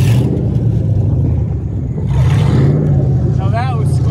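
A crashed Nissan Altima keeps its engine running, a loud steady low rumble close by with people talking and exclaiming over it.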